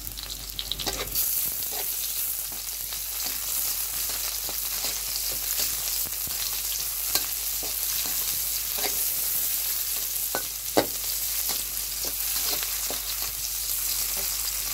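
Hilsa fish bones fry in a pan of oil with a steady, close sizzle throughout, marked by a few sharp pops and occasional stirring clicks.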